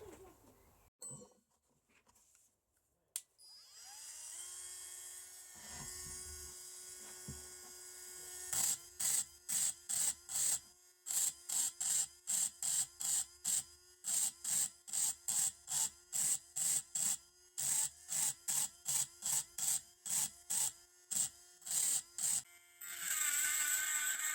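Texturing the metal guard of a handforged dagger produces a long run of short, evenly spaced metallic bursts over a steady mechanical hum, close and fairly loud, after a few quieter scattered knocks.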